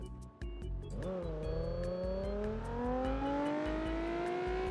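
A Nissan 370Z in BeamNG.drive with traction control off accelerates hard, and its engine note climbs steadily through the revs with a rising whine, close and continuous, while faint tyre noise runs underneath.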